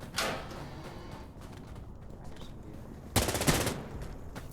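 Fire support gunfire in Insurgency Sandstorm, two sharp bursts of automatic fire, one near the start and a louder one past the three-second mark, over a low ambient battlefield hum.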